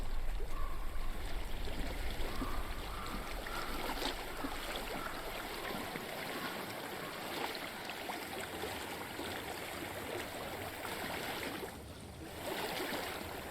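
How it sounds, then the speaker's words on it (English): A flowing stream in the Hellblade game, a steady trickling and rushing water at moderate loudness throughout, with faint wind and brief other game sounds. "I hear water."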